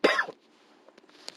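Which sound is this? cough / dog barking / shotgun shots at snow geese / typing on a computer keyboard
cough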